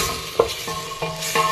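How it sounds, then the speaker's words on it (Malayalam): Chicken stirred in a pan with turmeric and Kashmiri chili, a few quick scraping stirs and light sizzling close by, no voices. "അതിൻ്റെ അകത്തേക്ക് നമുക്ക് എടുത്തു വെച്ചിരിക്കുന്ന ചിക്കൻ ഇതിൻ്റെ അകത്തേക്ക് ഇട്ട് കൊടുക്കാം"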